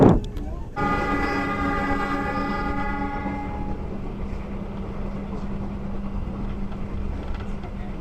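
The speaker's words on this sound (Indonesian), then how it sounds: "ini kereta api Sangkuriang persiapan masuk ke Ketapang" A Sangkuriang passenger train pulls into Ketapang station, sounding a loud sustained horn blast that lasts a few seconds and then fades, followed by a steady rumble of wheels and rail noise.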